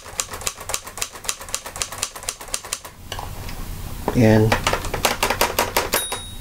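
Hermes Rocket typewriter, with no paper in it, keys striking in quick rhythmic clacks, then a pause with a brief voice, then a bright little bell ding followed by more rapid key strikes, close and crisp.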